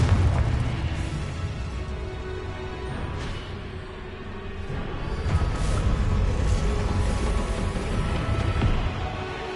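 Confringo spell explosions in the Hogwarts Legacy video game, heavy booms and rolling rumbles sustained through a spell-heavy duel, loud and close with a few brighter bursts standing out.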